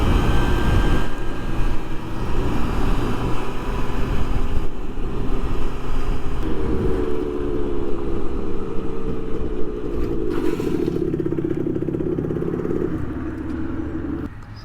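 A Yamaha Zuma scooter engine roars steadily up close during a wheelie on a street at 30 to 35 mph, its pitch shifting midway and then fading near the end, with no talking.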